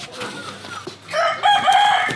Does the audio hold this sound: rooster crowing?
yes